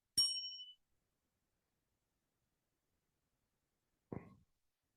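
A meditation bell rings once with a bright, clear ding that decays quickly into silence, followed about four seconds later by a single muffled, softer knock.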